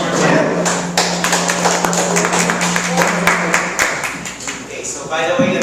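Round of applause from a Toastmasters club audience in Metro Manila, dense steady clapping for the whole stretch, fairly loud and close, with a brief pause and a renewed burst near the end.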